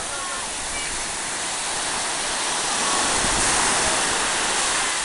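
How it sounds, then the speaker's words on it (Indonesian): Waves breaking at Pasir Putih beach in Krueng Raya, Aceh Besar, a steady broad wash of surf with a slight swell near the middle, continuous and fairly loud with no talking. "Lautnya bergelombang."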